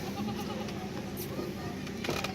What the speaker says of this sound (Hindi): और बकरियों के चेहरे भी देखें और बच्चे भी देखें माशाल्लाह से।